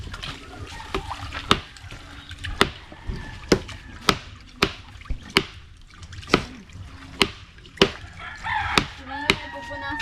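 Sharp, regular thwacks of a cleaver chopping large, roughly 5-kilo chickens repeat about twice a second, with faint background sounds and a rooster crowing in the distance.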